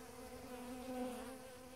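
A steady, low honeybee buzz hums continuously at a hive's robbing screen, droning close by with a constant tone and no voices.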